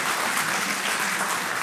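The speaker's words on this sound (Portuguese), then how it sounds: "Posso bater palmas." A crowd claps steadily at a meeting of passistas, a brief, dense and fairly even burst of applause heard on its own.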